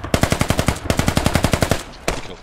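Rapid automatic gunfire in the Squad military shooter game, two bursts of steady evenly spaced shots, loud and close, followed by a brief pause and one last shot, with no talking.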